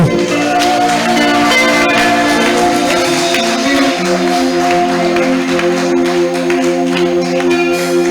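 A church congregation at a prophetess-led fasting service loudly acclaims God, with sustained cheering and shouting blended into steady music that fills the whole stretch.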